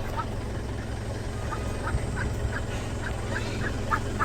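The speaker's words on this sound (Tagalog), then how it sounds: "daming pato naman dito" Ducks quack at Eco Park in Palacapac, Candon City, Ilocos Sur, a rapid string of short nasal calls from several birds over a low steady background hum.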